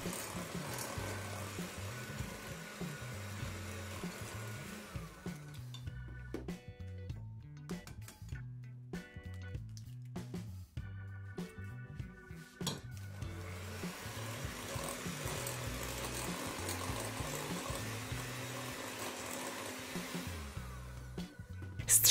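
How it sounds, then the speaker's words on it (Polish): Electric hand mixer beating cake batter as eggs are added one at a time for a quick apple cake, a steady close motor whir with brief pauses and shifts in pitch, no talking. "Po każdym dodaniu mieszamy mikserem do połączenia składników"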